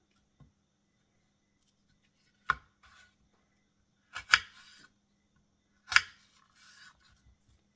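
An apple sliced with a knife on a board for a party fruit dip, heard as a few crisp isolated cuts and taps, close and quiet against near silence.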